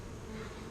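Forager honeybees buzz steadily at a hive during an inspection, a close, continuous droning hum with no voices.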